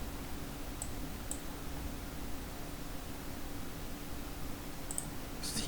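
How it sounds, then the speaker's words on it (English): A computer mouse clicks a few times at a desk while plus or minus buttons are adjusted in trading software. The clicks are faint and sparse, set against steady background hiss. "clicking the plus or minus"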